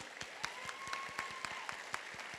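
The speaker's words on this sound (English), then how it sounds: "Let's give all of our award recipients a round of applause." An audience at a community graduation ceremony applauds award recipients. The clapping is faint and sparse, with sharp claps spaced irregularly, heard from a distance.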